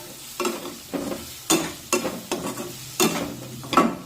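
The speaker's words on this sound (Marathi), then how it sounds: "आता हे सर्व मसाले या फोडणीमध्ये व्यवस्थित परतून घेऊया" Spices for a masoor dal tempering are sautéed in hot oil, heard as a low sizzle punctuated by about eight rhythmic spatula strokes, each a short scraping burst roughly every half second.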